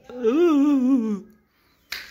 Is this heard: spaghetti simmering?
no